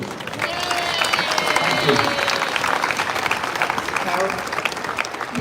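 A crowd at a cycling team presentation in Victoria Square, Adelaide, gives a veteran professional rider a warm round of applause with some cheering. The clapping is steady and continuous, and a voice speaks over it.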